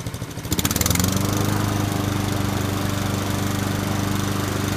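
A Mountfield 21-inch lawn mower with a 4.5 horsepower, 135cc overhead-valve Honda engine runs at full throttle, a steady near hum that rises from idle in the first second and then holds even and continuous, with no talk.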